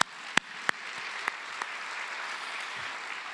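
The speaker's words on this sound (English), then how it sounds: "Can we give them a round of applause for that?" Applause at a beginning-teacher-of-the-year ceremony, a few loud close claps standing out over a softer, steady spread of clapping from the audience.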